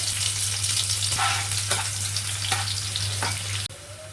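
Onions going into hot oil after garlic has fried, a strong steady sizzle with scattered clinks and scrapes of a spoon, and a low hum running underneath, no talking.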